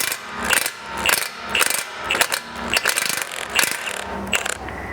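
Ratchet wrench with a 21mm socket loosening a front ball joint nut on a 2009-2015 Audi A4 B8, giving loud, close bursts of rapid clicking strokes at a steady, repeated rhythm.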